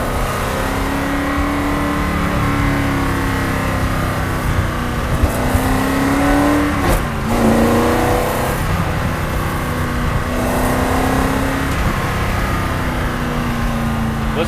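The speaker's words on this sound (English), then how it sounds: "Listen to that motor." The engine of a 1960s Ford GT40 sports car roars steadily from inside the car while driving. It rises and falls through revs with one brief louder surge, the sound continuous and fairly loud throughout.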